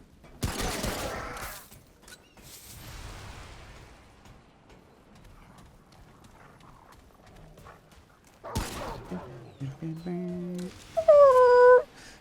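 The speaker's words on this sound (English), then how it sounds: "It makes the same doggy noises that we all know." Dog creature in the game Remnant From The Ashes gives short whimpering, whining cries near the end, preceded by loud gunfire-like bursts and quieter stretches.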